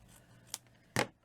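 Scissors snip through ribbon during Victorian ribbon-flower making: a small faint click, then one crisp, close cut, heard alone in a quiet room.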